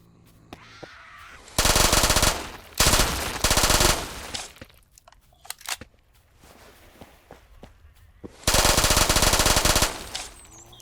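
A .45 ACP gun firing in the video game Those Who Remain, three loud sustained full-auto bursts, each lasting about a second, separated by quieter stretches of footsteps and clicks.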